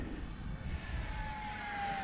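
An FMS P-51D Mustang Dago Red 1100mm RC model plane on 4S power flies past with a steady motor and propeller drone, a faint whine gliding slightly down in pitch, quite distant and alone.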